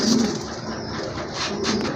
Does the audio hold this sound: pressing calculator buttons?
no